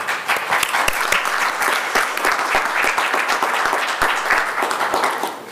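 Steady applause from an audience at a school committee meeting, many hands clapping continuously and fairly loudly for several seconds with no speech.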